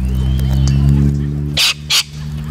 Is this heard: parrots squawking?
yes